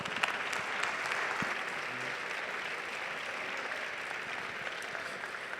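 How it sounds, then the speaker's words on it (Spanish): Sustained audience applause welcoming a speaker at a conference round table, a steady dense wash of clapping from a large crowd that holds at an even level throughout. "te invito a recibirlo con un caluroso aplauso"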